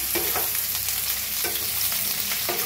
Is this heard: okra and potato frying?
yes